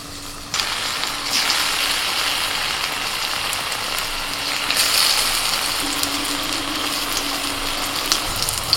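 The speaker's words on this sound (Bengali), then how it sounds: "কড়াইতে তেল দিয়েছি, তেলটা গরম হয়ে গেছে, এবার একটা একটা করে ভেজে নেব।" Battered taro leaf pakoras fry one by one in hot oil in a wok, giving a constant bright sizzle and hiss that swells when fresh pieces go in.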